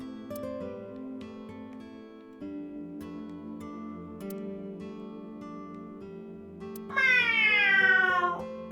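In AI: The Somnium Files, a character voice imitates a cat's meow toward a lucky cat statue, a drawn-out falling mew near the end over soft background music, with no other talk.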